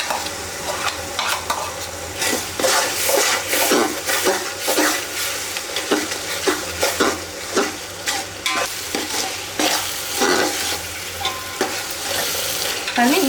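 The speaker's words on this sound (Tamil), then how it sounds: "இஞ்சி பூண்டு எல்லாமே நல்லா வதக்கியாச்சு" Ginger garlic paste sizzles in hot oil in a pan while it is stirred for a mutton dum biryani. A steady loud frying hiss runs throughout, with repeated scraping stir strokes close by and no talking.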